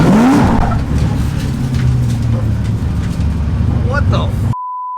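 Supercharged LS3-swapped BMW E36 at full throttle on a dyno, a loud sustained engine roar for several seconds with voices talking over it, cutting off abruptly near the end.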